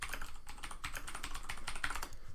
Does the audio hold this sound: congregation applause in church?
no